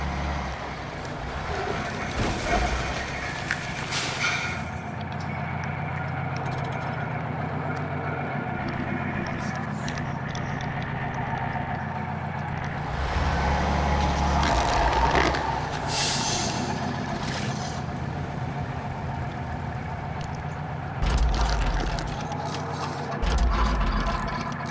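A highway truck engine drives in the MudRunner video game. Its continuous low rumble runs throughout, with mechanical clunks and brief louder bursts of engine noise. There is no speech.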